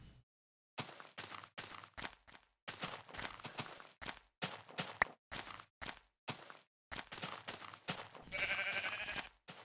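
Sheep in Minecraft bleating repeatedly, short separate bleats in quick irregular succession with gaps of silence between them, close and clear.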